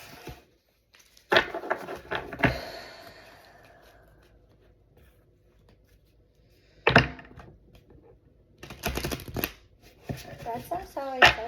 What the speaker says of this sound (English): That's how I shuffle.